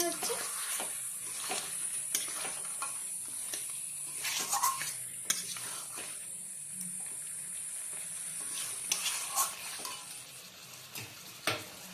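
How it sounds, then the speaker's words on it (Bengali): Chicken stirred in a pan with ghee and garam masala for a curry, a moderate sizzle with repeated scraping and clattering spatula strokes, close by, with some speech heard faintly at times. "ঘি গরম মশলা দিয়ে চিকেন নাড়াচাড়া করে নেওয়া হচ্ছে।"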